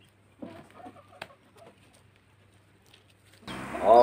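Village chickens (ayam kampung) cluck softly and sparsely, with one sharper call near the start, then a louder burst of close, noisy fowl activity at the end.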